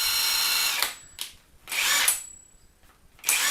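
A cheap cordless drill runs in three loud bursts with a high whine, separated by short pauses as it spins down and restarts, with no talking over it.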